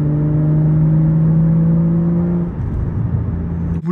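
A car engine idles loudly and close, holding a steady drone before the pitch shifts and roughens near the end.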